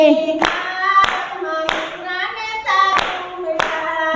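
Hands clap along to a Gujarati kirtan, with six or so loud, sharp claps at a slow, steady beat over singing voices and harmonium-like tones.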